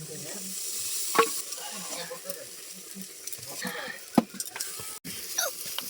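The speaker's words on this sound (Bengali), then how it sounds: "মশলাগুলো সব আমি ভালোভাবে ভেজে নিয়েছি এবার আমি টমেটো কুচি দিয়ে দিচ্ছি" Chopped tomato goes into spices already fried with turmeric, giving a steady close sizzle with repeated scraping stirs and a few sharper clanks of the utensil against the pan.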